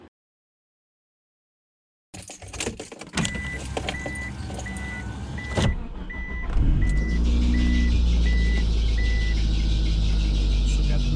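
A 1G Eagle Talon starts up after a moment of silence, with door and interior clunks, a repeating chime, then the engine settling into a loud, steady idle close by.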